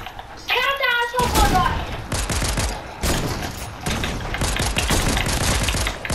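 Rapid bursts of gunfire crackle in a shooter video game played with sniper rifles, dense and loud, with excited players talking and shouting over the shots.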